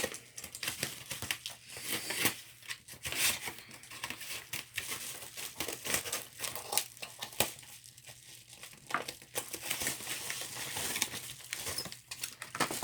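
Crinkling and tearing of packaging, with bursts of rustling and crumpling close by, no voices.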